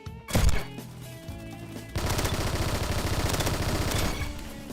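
Rapid automatic gunfire from a Roblox Bad Business shooter: a short burst and a few single shots, then a dense, steady stream of loud rattling rounds for a few seconds before it cuts off.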